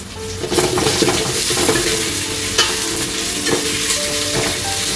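Ginger garlic paste sizzles and fries in a hot pan for vegetable biryani, a loud, steady crackling hiss that runs throughout, with occasional stirring scrapes and no talk.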